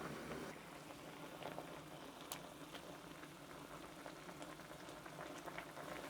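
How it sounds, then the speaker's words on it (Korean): Fish cake soup with fried tofu pockets bubbling in a pot, a steady close simmer of small pops and gurgles running throughout with no one talking. "이제 끓기 시작했으니까 유부를 위에다 살짝 넣겠습니다."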